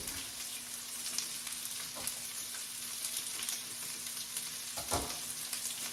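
Orange chicken with seasoning packets stirred into it while frying, a steady close hiss of sizzling oil carrying a few soft stirring knocks and scrapes, fairly quiet and even throughout, with no voices.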